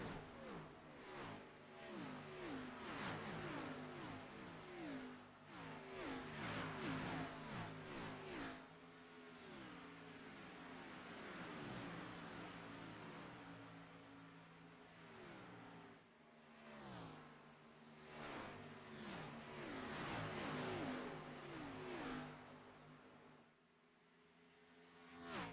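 Race cars in a stock-car series roar around an oval track, engines rising and falling in pitch as they come off the turn and down the back stretch, loud and continuous for the whole stretch with several cars overlapping.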